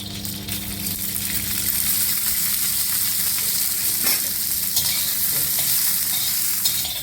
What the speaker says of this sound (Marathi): हे दाणे चांगले खरपूस भाजून घेणार आहे थोड्याशा तेलामध्ये